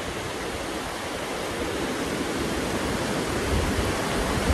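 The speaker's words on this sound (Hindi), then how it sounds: "चलो, यहाँ की लहरें भी तो बनती ना यार।" Ocean surf at Galgibaga beach in Goa, a steady broad roar of breaking waves that swells slightly toward the end, close and loud, with no voices.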